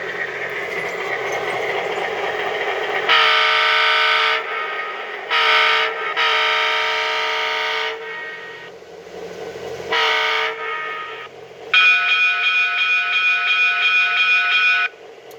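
An MTH model train locomotive sound system idles, cutting in and out in several bursts of tonal engine and horn-like sound, ending with a sustained brighter horn tone, close and moderately loud with no talking.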